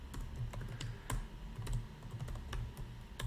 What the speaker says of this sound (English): Now I will just type some code here